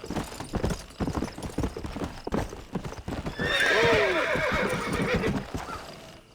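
In Red Dead Redemption, hooves strike in quick rhythmic beats as a horse breaks into a gallop, then a loud, wavering whinny rings out near and clear over the pounding.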